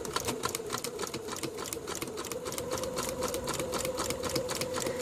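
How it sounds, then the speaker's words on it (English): A sewing machine stitches a seam on a foundation paper-pieced mug rug, a steady fast rhythmic clatter of needle strokes running close and throughout. "I'm just going to stitch on that line and then come into the seam allowance and just hit my lock off stitch"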